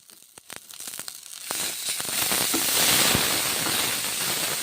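Ground pea paste frying in butter in a pan gives a building hiss and crackle, starting with a few sharp pops and swelling into a steady close sizzle with scattered spits.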